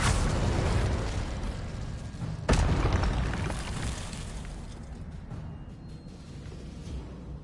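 An Incendio fire spell goes off in Hogwarts Legacy with a loud burst and a sharp crack, followed by a rumbling, roaring blaze that slowly fades.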